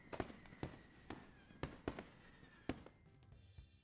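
Fireworks crackle and pop in a series of sharp, irregular bangs, some close together, fairly faint and heard on their own.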